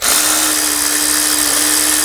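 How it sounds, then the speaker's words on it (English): A power tool whirs in a steady, loud high-pitched drone while snugging a starter bolt on a 2013-2017 Honda Accord, holding one even tone throughout with no pauses. "Snug down the top bolt."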